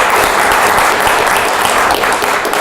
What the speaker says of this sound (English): I'd actually like to start with a quick round of applause to thank her